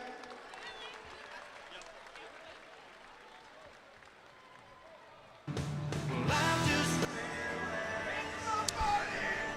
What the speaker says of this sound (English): Let's give a big round of applause for our lucky winner.